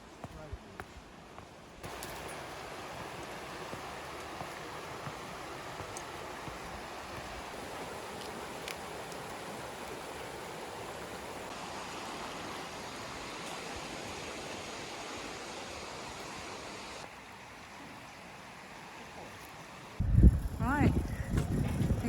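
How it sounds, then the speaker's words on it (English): River flowing near Hadrian's Wall, a steady broad rush of water heard from a distance for most of the stretch, ending with louder handling noise close to the microphone. "we found a river. Can you hear it?"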